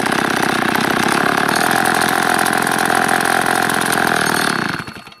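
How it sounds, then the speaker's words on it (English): A chainsaw engine converted to run on wood gas made from firewood runs loud and steady, revving hard, then chokes itself down and sputters out near the end, with no voices. "give it a little gas here, you'll see what it does, and it'll choke itself off."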